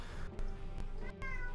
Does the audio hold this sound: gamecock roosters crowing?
no